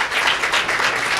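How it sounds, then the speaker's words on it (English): A short burst of audience applause for the village mayor at a women's resource forum, a dense, continuous wash of clapping heard only briefly and at moderate loudness. "So I think he deserves another round of applause for this."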